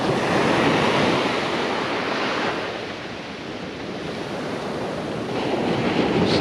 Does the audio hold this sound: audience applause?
no